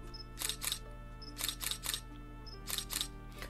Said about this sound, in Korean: 젠장, 셔터 소리 장난하게 크네.